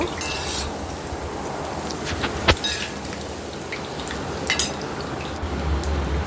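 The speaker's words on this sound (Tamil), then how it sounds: "எண்ணெய் காஞ்சிடுச்சு எண்ணெயில் ஊற்றி எடுத்துக்கலாம்" Boondi batter frying in hot oil for laddu makes a dense, continuous close sizzle. Scattered sharp clinks and taps of a utensil sound against the pot.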